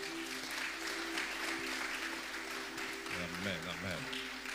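Steady applause from a church congregation fills the space as a continuous wash, with a voice speaking over it near the end.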